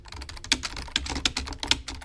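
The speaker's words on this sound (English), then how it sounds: "Sorry if I'm typing and the microphone's right here." Fingers tap quickly on a computer keyboard placed right beside the microphone, sharp close clicks in an uneven burst with no voices.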